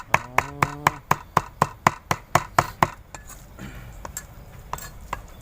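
Pounding tilapia laab ingredients finely, likely with chili, toasted rice and shallot in a mortar, produces a fast, regular series of sharp, close thuds that then turns into sparser, quieter knocks.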